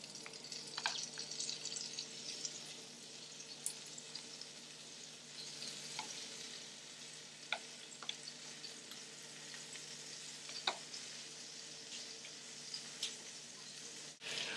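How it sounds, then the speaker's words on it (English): Butter sizzles and crackles steadily in a hot pan, a soft continuous hiss with occasional sharper pops and a faint scrape near the end. "once that butter has stopped sizzling and it's nice and melted"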